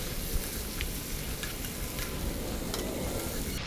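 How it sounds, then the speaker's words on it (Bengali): Vegetables for a prawn curry sizzling in a pan with salt and green chillies as they are stirred, a dense, steady crackle with a few scraping strokes, close by. "ভালো করে নাড়িয়ে চাড়িয়ে আমি সব সবজি মিশিয়ে নিয়েছি।"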